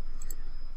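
A computer mouse gives a quick right-click while working in the Unreal Engine editor, one or two faint, crisp clicks over a steady electronic hum.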